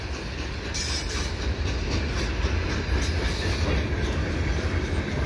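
A CN freight train rolls past around a curve at Sainte Anne De Bellevue, a loud continuous rumble with rhythmic wheel clatter and faint squeal, filling the whole stretch.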